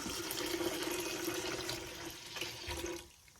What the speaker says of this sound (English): I'm just gonna add a bit of water in there.